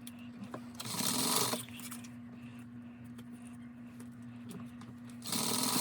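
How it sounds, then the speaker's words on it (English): A sewing machine stitches a strap threaded with D-rings at a half-inch seam allowance, running in two short bursts, one early and one at the end, with a low steady hum between them. "I'm going to sew them with a 1/2 inch seam allowance"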